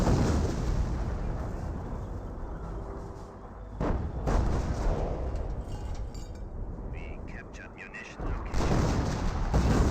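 Mortar fire and shell explosions in Company of Heroes, heavy booming blasts and rumbling impacts layered over continuous battle noise, with a few sharp detonations standing out across the stretch.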